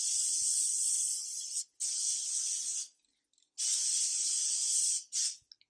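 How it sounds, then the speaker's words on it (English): Lysol disinfectant sprayed onto cardboard delivery boxes from Amazon and Uline: four close aerosol bursts, three long hisses of about a second and a short final puff, separated by brief pauses. "So I'm going to spray them with my Lysol"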